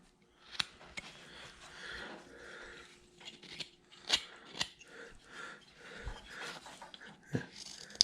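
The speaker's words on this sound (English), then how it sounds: "I'm going to cut this in a little bit more." Scissors snipping paper for a Santa with candy cane craft, a series of sharp close cuts spaced irregularly over quiet handling noise, with no talk.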